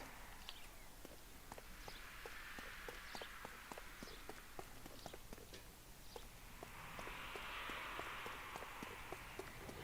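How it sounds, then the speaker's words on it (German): Steady clip-clop of horse hooves in the video game L.A. Noire trots along at an even pace over a constant background hiss, with no voices. "Ein Pferd."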